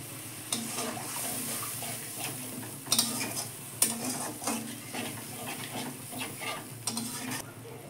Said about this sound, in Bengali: এবার মশলাটা একটু কষে নেব।